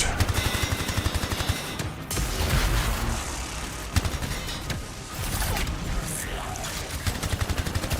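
Turret gunfire in the video game Anthem: dense, loud bursts of rapid shots and booms rattle almost continuously, with brief lulls between volleys.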